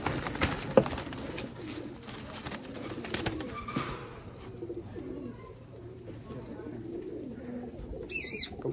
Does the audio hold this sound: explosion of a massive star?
no